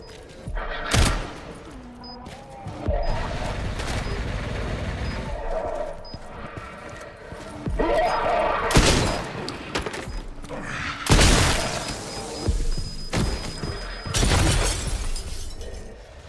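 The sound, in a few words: grenade exploding and gunfire in video game Resident Evil Requiem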